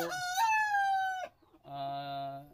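A rooster crows loudly and close, then another sustained call follows after a short gap, among Rhode Island and other laying chickens on a poultry farm.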